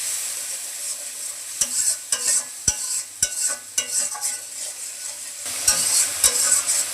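Masala of chilli and coriander powder sautéed in a pan for a rohu fish-head muri ghonto, a soft frying hiss broken by sharp, irregular knocks and scrapes of a spatula against the pan.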